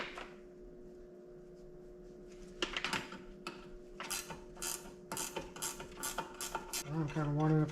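A wrench ratchets and clicks while working on engine cylinder heads, bursts of sharp metallic clicking that grow busier and louder toward the end over a faint steady hum.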